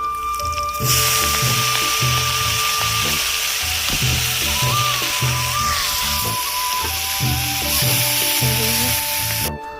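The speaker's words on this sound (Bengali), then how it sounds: "কড়াইতে আমি কাঁচামরিচ রসুন পেঁয়াজ দিয়ে দিয়েছি এখন যে শাকগুলো দিয়ে দেবো" Loud, steady sizzling of leafy greens frying in a wok with green chillies, garlic and onion, with repeated scraping and clanking of a spatula against the pan throughout.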